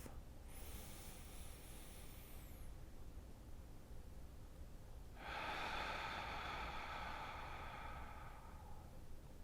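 Two slow, deep breaths taken during a guided breathing exercise, each a soft airy hiss lasting a few seconds with a quiet pause between, faint and close with no talk.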